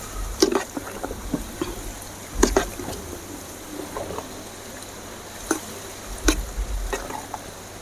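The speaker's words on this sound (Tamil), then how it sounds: "நல்லா கிண்டி வச்சாதான் இந்த தயிர் சாதம் நல்லாயிருக்கும்." Curd rice, made as a temple offering, being stirred by hand in a pot: soft, scattered scrapes and wet squishing taps come at an uneven rhythm, close up and fairly quiet.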